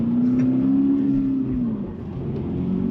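Inside a 2024 Subaru BRZ tS on a track, the 2.4-liter boxer flat-four making 228 horsepower gives a steady, droning engine note that dips slightly in pitch partway through, with no talking.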